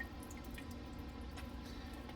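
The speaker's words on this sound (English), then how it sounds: "plus 1/2 can of water. All right, there's my 1/2 can of water." Half a can of water poured into a pot of Hunt's tomato sauce while making Italian meatballs and spaghetti, a steady close trickle with light drips and splashes throughout.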